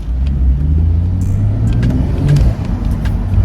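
BMW M135i fitted with a BMS intake, heard from inside as a low engine rumble builds and revs with faint turbo whooshes and clicks over road noise.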